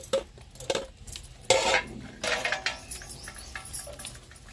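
Roasted fenugreek seeds are pounded for lemon chilli pickle, producing irregular close knocks and scraping clinks of a pestle in a metal vessel, repeated unevenly throughout.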